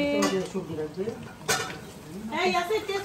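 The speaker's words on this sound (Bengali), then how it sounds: "এখানে পরোটা ভাজা হচ্ছে" Paratha frying in hot oil, a soft bubbling sizzle with occasional clinks of a utensil against the pan, partly under nearby voices.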